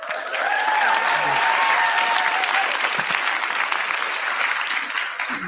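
A live audience applauds debate speakers from Monash Christian Union at an evening debate, a sustained, dense wash of clapping from many hands that holds steady throughout.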